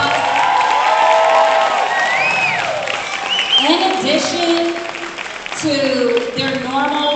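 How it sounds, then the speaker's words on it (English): At an eighth grade graduation, a loud crowd claps, cheers and whoops, with excited shouts and voices rising over the applause, which surges again near the end. "If we could give them a round of applause."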